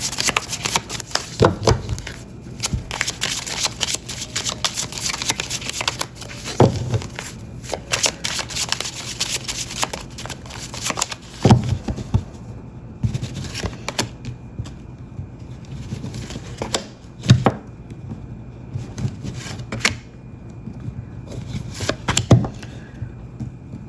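Lenormand oracle cards being shuffled by hand, a close, steady papery riffling and patter with periodic louder snaps as the deck is cut and bridged, continuing alone for over twenty seconds.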